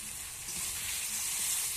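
Katla fish heads sizzle steadily in hot oil in a pan, a continuous close crackling hiss that swells slightly partway through, with no voices.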